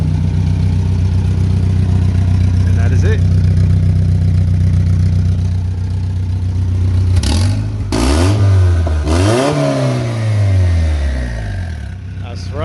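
A turbo LS VTEC Honda Civic EG hatch idling close by with a deep steady drone, then blipped through several sharp revs that rise and fall; someone speaks briefly over it.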